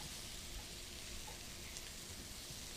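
Steady, loud sizzling of chicken breast searing in a hot pan, an even crackling hiss that fills the whole moment without pause.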